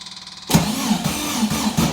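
A snow buggy engine is cranked over without ignition by the starter, a steady rhythmic chugging of repeated compression pulses, close and loud, that never catches.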